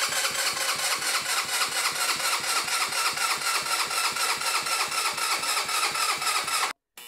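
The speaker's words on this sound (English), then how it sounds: "You'll need to crank the engine over, crank and crank and crank" A GY6-engined Honda Ruckus scooter cranks over with a steady, rapid rhythmic chug from the starter, loud and close for several seconds, then cuts off abruptly near the end.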